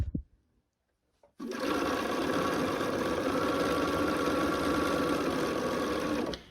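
A sewing machine stitching quilt block pieces, starting after a brief quiet pause with a few faint handling taps, then running in one continuous, steady mechanical whir to the end.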